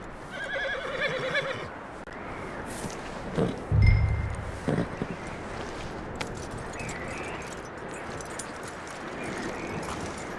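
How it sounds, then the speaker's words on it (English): A horse whinnies briefly amid a busy Red Dead Redemption 2 game soundscape of hoofbeats, wind and ambient noise, with a low thud partway through. "That looks like a decent horse."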